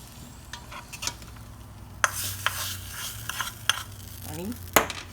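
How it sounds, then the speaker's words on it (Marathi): Curd rice for Gopalkala (dahi kala) is gently stirred after a hot tempering is added, giving soft scraping strokes and scattered clicks with a faint sizzle throughout. "आणि सर्व मिक्सचर हलक्या हाताने कालवून घेऊ"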